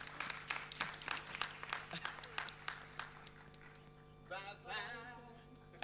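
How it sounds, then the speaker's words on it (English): Applause from the audience at a creative arts summit: a short run of loud individual claps that thins out, followed by a brief stretch of voices and a sharp noise at the very end. "a round of applause for Somizi Mhlongo"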